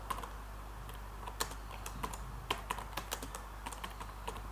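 Keystrokes on a computer keyboard while entering a spreadsheet formula in OpenOffice Calc, a steady run of soft, close clicks with a few sharper taps over a low background hum.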